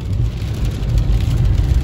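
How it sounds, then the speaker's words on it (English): Rain falling during an ice storm in Oklahoma, a loud, dense, steady hiss with a heavy low rumble underneath, continuous with no breaks. "this is how Oklahoma is bringing in the new year with a damn ice storm. It's raining."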